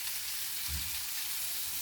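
Shrimp frying in a pan, a steady quiet hiss and crackle of sizzling oil running throughout, with a soft low bump partway through.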